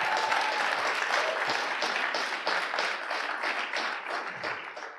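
Audience applause at a live conversation event, a dense burst of clapping from a crowd with individual claps standing out, fairly close and steady for about five seconds before easing slightly.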